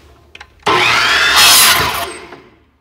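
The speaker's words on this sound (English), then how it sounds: "Cut your casing to the appropriate length." A power tool bites into wireline counter cable casing, cutting it to length on an 18-foot cable build: a sudden loud whirring cut of about a second and a half that tails off, with a couple of faint clicks beforehand.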